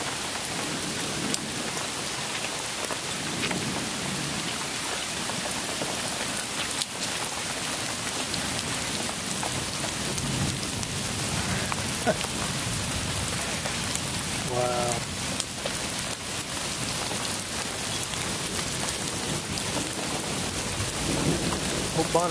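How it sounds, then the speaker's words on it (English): Heavy rain pours down continuously in a dense hiss, with low rumbles of thunder rolling through in the background. "That was a lot of rain."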